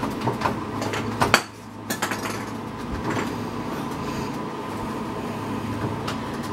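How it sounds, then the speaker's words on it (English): Spoon clinks and scrapes against a pan as sauce is spread on pizza dough, a few metallic taps up front followed by a steady close scraping rasp with no talking. "And then you just take the spoon, bottom of a spoon, and spread it out nice."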